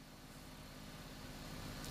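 Car engine idling at steady speed, a low, even rumble that holds constant throughout, fairly faint and with no voices over it.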